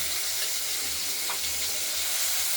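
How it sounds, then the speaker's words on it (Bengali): A steady sizzle of chopped tomatoes frying in hot oil, a continuous crackling hiss with no voices. "তেলে ভাজার জন্য দিয়ে দিলাম একটু মিশিয়ে দেবো তেলে ভেজে"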